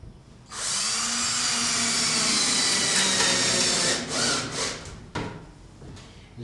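Power drill driving a 2-inch wood screw with a rubber gasket into an air conditioner end cap, a loud continuous whirring grind lasting several seconds, then a few short bursts as it finishes.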